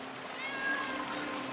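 A cat in the video game Blacktail gives a single short, thin meow, fairly faint over a soft background hum of ambience.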